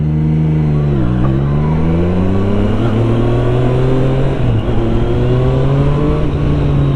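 A 2024 Triumph Street Triple 765 RS motorcycle engine revs loud and close, its pitch dipping and climbing through gear changes as it accelerates steadily, with no talk over it.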